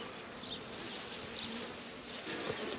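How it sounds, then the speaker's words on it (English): A honeybee swarm, a good-sized one, hums in a dense continuous buzz outdoors, steady and moderately near, with individual bees briefly droning past. "So it's a good sized swarm"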